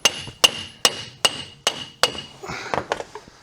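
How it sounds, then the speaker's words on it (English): A hammer strikes the axle of a figure 8 race car about eight times in a steady rhythm of sharp, ringing metallic blows, close and loud, with the final hits quicker and more scattered. "Okay, let's get that hammer."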